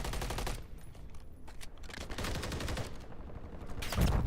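Gunfire in a first-person shooter game, repeated rapid bursts of automatic fire in several clusters, fairly loud and close, with quieter gaps between volleys and no talk.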